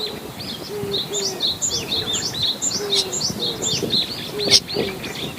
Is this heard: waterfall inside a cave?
no